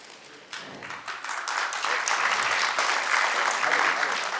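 Audience applause fills an auditorium after a play, swelling from a few claps into steady, dense clapping that stays loud to the end.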